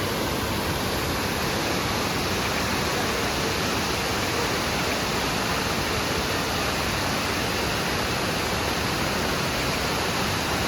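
Water pours over rocks at a waterfall near Ella in Sri Lanka, a steady, dense, unbroken rush that fills the whole stretch at close range, with no voices over it.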